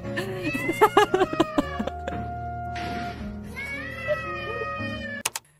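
A cat meows several times over a busy layer of tonal, music-like sounds, ending with a couple of sharp knocks.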